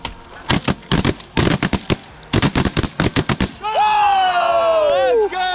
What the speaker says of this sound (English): Good shooting, boys!